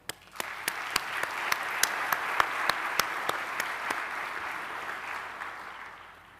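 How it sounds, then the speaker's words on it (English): Audience at a university autumn graduation ceremony on the Gqeberha campus applauding in sustained, even clapping that starts abruptly, swells and holds steady, with a few sharp louder claps standing out near the microphone. "Please join me in applauding them."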